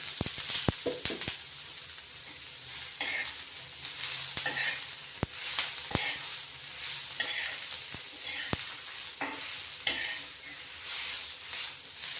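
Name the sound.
onions frying in oil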